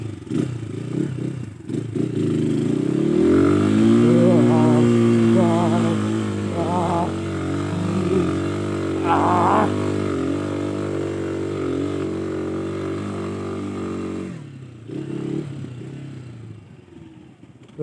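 A motorcycle engine labours up a steep uphill trail, droning loud and close for most of the stretch with rising and falling revs and some clattering, then dropping away near the end.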